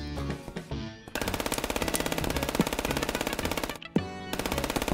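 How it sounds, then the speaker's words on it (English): A machine gun in the FPS Chess video game fires loud, rapid, continuous bursts, with brief pauses near the start and toward the end. "I have a machine gun and I'm still missing every bullet."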